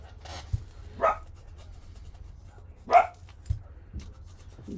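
A dog sitting at a window indoors gives two sharp barks a couple of seconds apart, with faint thumps and quiet room noise between them.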